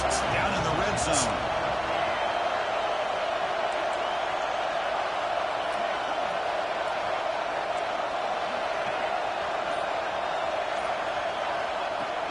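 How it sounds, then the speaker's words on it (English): Stadium crowd at a USC vs Ohio State playoff football game, a steady continuous roar of voices filling the whole stretch, with commentary running over it. "And the crowd coming to life here, trying to help this defense down in the red zone."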